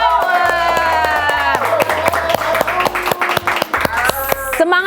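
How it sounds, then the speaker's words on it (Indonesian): Studio audience clapping on an Indonesian talk show set, heard beneath cheerful music with steady chords, the claps fairly loud and continuous across the whole stretch. "Tepuk tangan dong."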